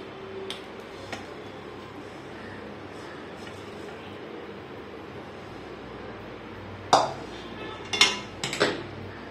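Roasted poppy seeds are tipped from a pan into a metal plate, a faint quiet stretch followed by a few bright clinks and scrapes of metal utensils near the end.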